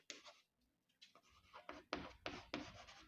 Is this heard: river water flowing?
no